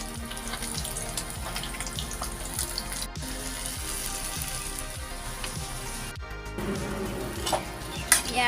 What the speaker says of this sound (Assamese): এয়া পানীখিনি ঢালি দিলোঁ